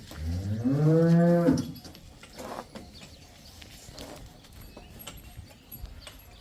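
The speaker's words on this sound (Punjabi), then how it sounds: "ਇੱਕ ਗਾਂ" A cow on a dairy farm gives one loud, close moo lasting over a second, followed by quieter farmyard rustling and faint hoof-like knocks.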